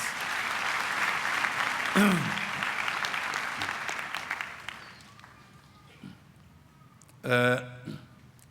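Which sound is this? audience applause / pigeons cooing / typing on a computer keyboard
audience applause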